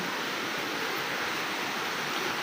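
Water rushes in a loud, steady roar at a hot spring in Leyte, Philippines, dense and continuous like a strong current or a waterfall close by.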